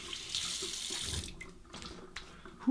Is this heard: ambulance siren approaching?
no